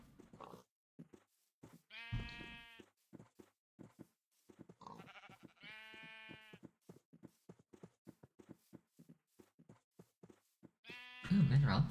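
Sheep in the game Minecraft bleat several times in short bursts, spaced across the stretch, alongside clicky game sounds and soft footsteps.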